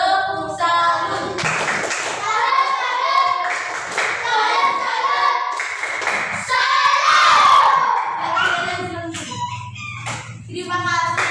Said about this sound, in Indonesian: Tepuk salam.